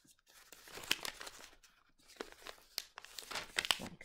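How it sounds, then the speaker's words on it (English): Paper being folded into a paper airplane, heard as close, quiet bursts of crinkling and crisp creasing separated by short pauses. "Folding it again like that."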